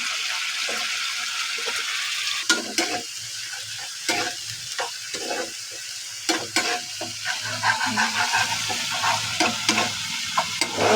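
Spice masala with chilli powder and cumin powder frying and being stirred in a pan, a steady sizzle broken by repeated scraping and stirring strokes, close and moderately loud, with no voices.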